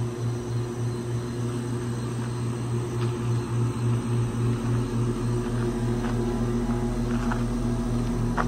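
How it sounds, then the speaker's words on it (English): A low, droning propeller aircraft hum hangs overhead, steady and moderately loud, with a throbbing tone and faint background noises. "there's an airplane flying above us right now, making some noise"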